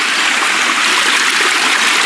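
Water stream flowing steadily outdoors on a rocky forest trail, a continuous broad rushing wash that stays loud and even throughout with no voices.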